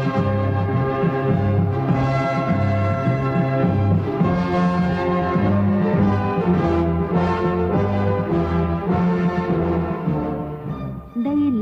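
Time signal music from the Voice of Vietnam radio station in Hanoi plays as a continuous, loud melodic tune with repeating phrases and full harmony, alone without speech over it.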